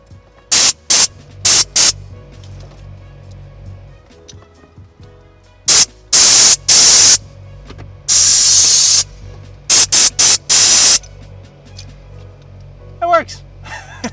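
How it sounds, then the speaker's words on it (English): ARB air compressor on a Jeep with a relocated airline and manifold, heard as repeated loud bursts of air blowing out of the line, with a steady low hum between blasts. "Alright, so you can hear the compressor was running."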